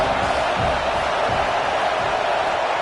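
Stadium crowd at a college football game in a video game, played at Washington, giving a loud, steady roar that fills the whole moment without distinct peaks.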